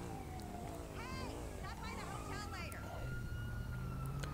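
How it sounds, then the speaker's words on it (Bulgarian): Emergency sirens wail and warble, rising and falling as they approach over a constant background rumble, while people talk nearby. "Така, чувам сирените."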